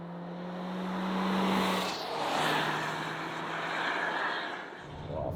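A 2023 Toyota Corolla Cross petrol SUV driving around a track, heard as a steady engine drone and broad road and wind roar that swells and eases as it goes, with a low engine hum underneath.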